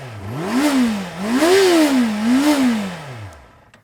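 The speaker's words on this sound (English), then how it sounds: "the sound of the engine, the high frequency shriek of an inline 4 engine" A 2015 Honda CBR 650F inline-four motorcycle engine revs up and down three times in smooth rising and falling sweeps, loud and close, then settles back toward idle.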